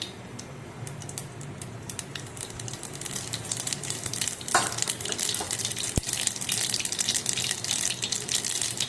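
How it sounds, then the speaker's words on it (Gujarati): Mustard and cumin seeds sizzle and crackle steadily in hot oil for tempering, a dense hiss of tiny pops with one sharp click partway through. "તેલનું કંઈક આવી ગયું અને વઘારની સિસ્ટમ ચાલુ થઈ ગઈ છે"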